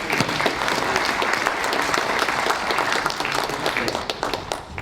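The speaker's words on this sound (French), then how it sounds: "applaudissements." Lively crowd applause at the presentation of a cycling event, with dense clapping and some cheering holding strong for several seconds before easing off slightly at the end, and voices faintly mixed in.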